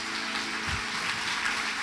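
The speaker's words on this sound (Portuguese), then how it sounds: "Vamos aplaudir ao Senhor, Rei dos Reis, Senhor dos Senhores." Church congregation applauding at an evening service, a steady dense wash of many hands clapping at moderate level, with no voices standing out.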